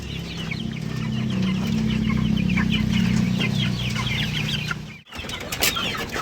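Chickens kept in an outdoor brooder cluck and chirp continuously in overlapping calls, close by, with a brief gap near the end.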